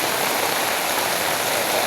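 Heavy rain pouring continuously, a dense, loud, unbroken hiss with no pauses, close and filling the space.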